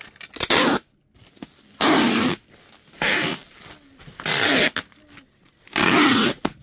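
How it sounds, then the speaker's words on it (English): Packing tape pulled off a roll and wrapped around a boxed package in a garage, five loud ripping bursts with short pauses between them, close up and alone. "And just put a bit of tape around it."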